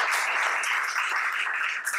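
An audience clapping for a colonel during a talk session: dense, even applause that holds steady for the whole stretch before trailing slightly at the end.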